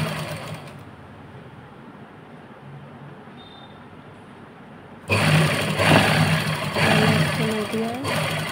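A sewing machine stitching cotton fabric cut from an old t-shirt. After a quiet stretch with a faint hum, its steady whirring starts abruptly and runs on loudly while someone speaks.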